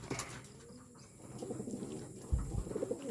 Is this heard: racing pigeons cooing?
yes